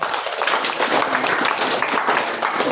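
Applause from about 120 residents of an orphanage and shelter, offered as birthday wishes at a charity meal. Dense, steady clapping from a sizable group continues evenly throughout.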